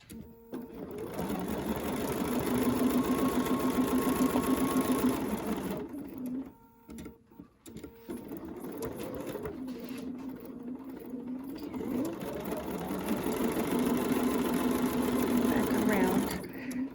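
A sewing machine stitches quilt fabric along a ruler in steady motor bursts, running loud for several seconds, pausing briefly, then starting again, with someone talking over part of it.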